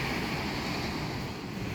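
Sea waves wash onto the beach at Es Canar, Ibiza, before sunrise, a steady broadband surf roar with wind rumble on the microphone and no voices.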